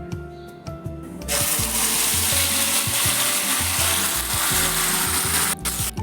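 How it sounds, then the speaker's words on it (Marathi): Cumin seeds and a ground spice paste fry in hot oil in a pan for a fasting meal, a loud sustained sizzle that bursts in as the paste drops, with stirring scrapes over a low rhythmic background hum. "जिरं छान तळतळलं त्यामध्ये तयार पेस्ट घालून घेऊ"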